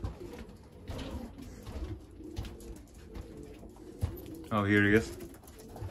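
Pigeons coo softly in a loft among old breeder birds, low murmurs running under a man's speech, then one louder, close, rolling coo near the end.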